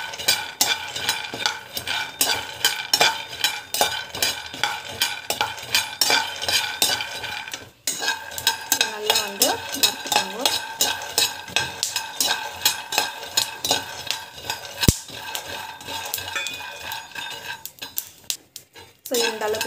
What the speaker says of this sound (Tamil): ஸோ கடலைப்பருப்பு வந்து போட்டுக்கோங்க. நல்லா வறுத்துக்கோங்க.